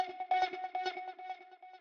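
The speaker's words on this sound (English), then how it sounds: "having step effects, tape, delay, and tremolo" A Logic ES P synth patch in a 90s dream trance style plays rapid stepped notes through tape delay and tremolo, giving a pulsing, echoing texture that is moderately loud with no voices.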